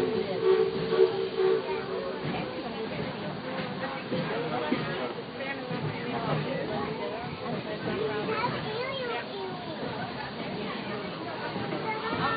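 A circus-themed train ride in Fantasyland rumbles and clatters along at moderate volume, with crowd babble and voices mixed in throughout and a brief whistle-like tone near the start.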